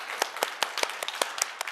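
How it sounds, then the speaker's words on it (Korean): Church congregation clapping in praise during a Wednesday worship service, a steady run of sharp claps from many hands at moderate distance, with no voices on top. "우리 영광의 박수, 감사의 박수 올려드립니다."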